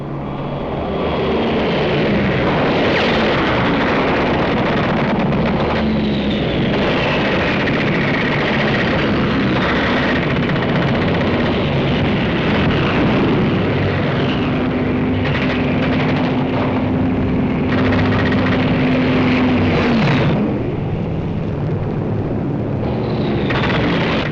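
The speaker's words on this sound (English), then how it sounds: "Our fighters struck at their transport planes, still pouring men in through the intake valve, knocking them out of the sky by the hundreds." Propeller aircraft of the Second World War, fighters and transport planes, drone loudly and steadily overhead in a dense, continuous roar with swelling engine tones and occasional rumbling bursts, with no voices.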